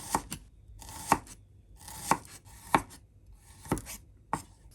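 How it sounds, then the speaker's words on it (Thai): A knife slices shallots into thin rings on a cutting board in separate, slightly irregular strokes, close and crisp, about eight cuts with quiet pauses between them. "แล้วก็นำมาหั่นให้เป็นแว่นบางๆ แบบนี้เลย"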